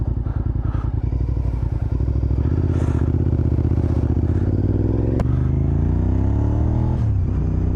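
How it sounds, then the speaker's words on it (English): Motorcycle engine idling with a gear-driven cam whine, a loud, close, rapid mechanical thrum with clatter and rising, sliding tonal whine near the end, no speech. "I don't know if you can hear it there when the bike is idling, but there should be a little bit of a whining sound"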